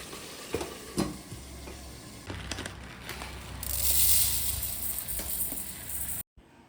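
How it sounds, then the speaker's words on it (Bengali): Chicken pieces hit hot oil with chopped onions in a pan, sizzling steadily under repeated scraping and stirring clatters, with a surge of bright sizzle midway before a sudden stop. "এবার চিকেনগুলোকে দিয়ে দিচ্ছি।"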